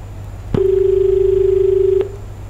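A steady telephone line tone sounds after a call is disconnected, one continuous loud beep of about a second and a half that begins and ends abruptly, with a low background hum.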